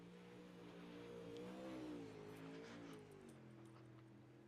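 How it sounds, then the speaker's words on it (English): IMCA-style modified race car roars around a dirt track, its engine note rising and falling through a corner as it slides, heard faintly and steadily at some distance. "Enters down low, lets the car kind of slide up on the exit of 2, down the back straightaway."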